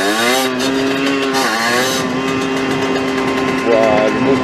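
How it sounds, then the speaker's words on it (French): A 50cc moped engine roars loudly and steadily nearby, its pitch rising and falling as it revs, with a strong accelerating surge near the end. "Waouh, le moteur il gueule"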